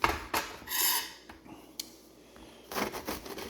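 Real knife slicing through a fried peanut butter banana chimichanga, a few close crunchy crackles and scrapes on a plate, with a quieter pause in the middle.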